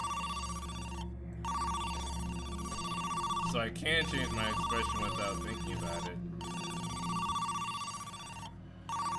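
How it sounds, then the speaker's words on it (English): A phone rings repeatedly in a video game, a bright repeating electronic ring in regular bursts with short gaps, while a streamer talks over it. "Which of my phones is ringing?"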